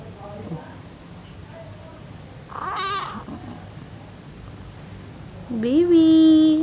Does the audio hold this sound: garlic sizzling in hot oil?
no